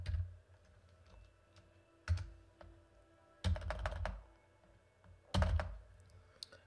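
Fingers type on a computer keyboard in short clustered bursts separated by brief pauses, with nearby, fairly quiet key clicks and thunks.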